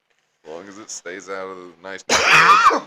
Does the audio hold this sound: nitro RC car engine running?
no